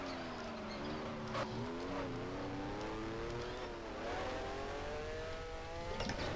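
The engine of a 1973-season race car in the F1 Challenge game revs and drones steadily, its pitch rising and falling through gear changes, with a brief tire squeal, at moderate level and with no talk.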